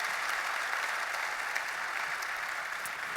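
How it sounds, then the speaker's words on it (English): Sustained audience applause at a tech conference keynote panel, steady dense clapping from a large crowd filling the hall without pause. "Can we give our panelists a round of applause"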